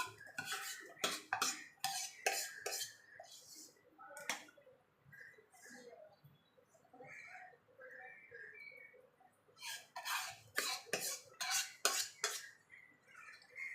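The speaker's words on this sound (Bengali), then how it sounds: "সেটা আস্তে আস্তে দিতে থাকবো আর নাড়তে থাকবো এইভাবে" A spoon scraping and stirring mango kheer with milk in a pan, intermittent metallic clinks and scrapes in bursts with quieter gaps, fairly faint and close.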